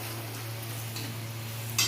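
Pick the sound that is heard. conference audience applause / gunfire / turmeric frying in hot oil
turmeric frying in hot oil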